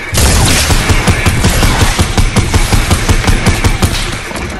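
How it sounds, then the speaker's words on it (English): Rapid rounds from a quad launcher in Fortnite, loud, dense and continuous over several seconds, with rhythmic thumping bursts and explosions stacking on top of one another and no talk. "Shoot quad launcher."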